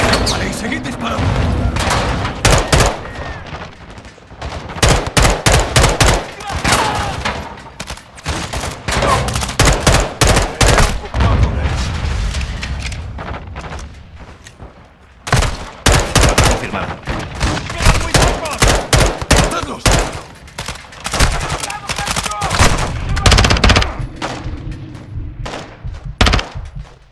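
Sustained machine gun fire in the video game Call of Duty Modern Warfare 2: loud, dense rattling bursts and booming shots, with brief pauses, while voices shout in Spanish over the gunfire.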